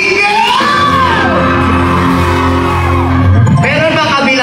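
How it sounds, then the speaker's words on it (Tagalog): A loud crowd at a Filipino community show in Toronto shouts and yells together, sustained cheering and whooping filling the space, with a fresh surge of voices near the end. "Isang hiyawan mga single!"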